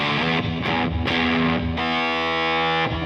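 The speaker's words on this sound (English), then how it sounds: "I just needed something really like a really screwed up, you know, like distortion or fuzz pedal." Heavily distorted, fuzzy electric guitar chords through a Z.Vex Fuzz Factory pedal ring out loud and saturated, with a couple of abrupt changes before a long sustained buzzing note.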